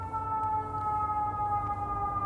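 A siren wails steadily in the background outdoors, its sustained tones holding across the whole stretch over low ambient rumble, with no one speaking.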